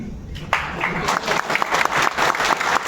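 Crowd applause breaks out at a political party gathering, rising suddenly after a brief pause into a busy, uneven clatter of clapping with voices audible underneath.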